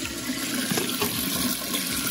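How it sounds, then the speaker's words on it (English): Tap water runs steadily into a container being filled for morning coffee, a continuous close rushing and splashing with no speech. "I'm gonna fill this up with some water."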